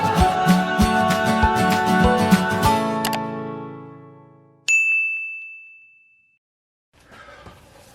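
Bell dings and chimes, a cluster of bright metallic strikes ringing out and decaying, then a single clear high ding that sustains and fades to silence, followed by faint rustling.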